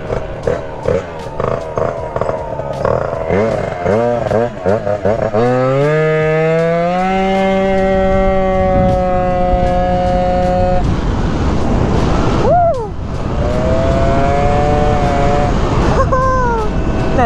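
A Honda Dio SR two-stroke scooter on a test ride, its engine revving loud and close with rising, buzzing tones that rev up, hold high, drop away and climb again.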